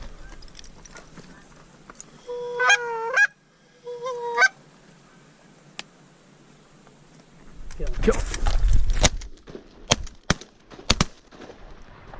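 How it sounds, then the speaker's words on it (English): Several geese honk in short bursts nearby in flight during a goose hunt, and a heavy rumble and sharp cracks follow. "4 geese coming in"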